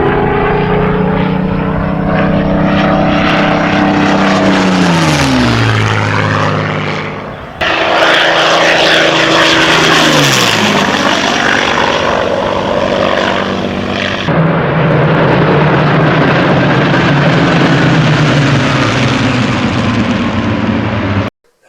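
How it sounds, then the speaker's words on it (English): Iconic World War II Spitfire fighter plane, its propeller engine roaring loud and close as it sweeps overhead in repeated passes, pitch falling sharply with each flyby before the next one builds. "this is obviously the iconic Spitfire from World War II"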